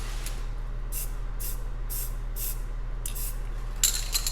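Spray paint can hissing neon base coat over a planet stencil in short repeated bursts, about half a second each with brief gaps, close and steady over a low background hum.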